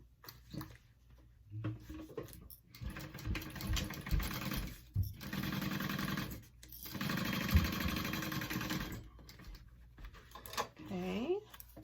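A home sewing machine bastes a seam on a mini backpack in several bursts of rapid, even stitching, separated by short pauses and soft handling sounds, with someone speaking briefly between runs.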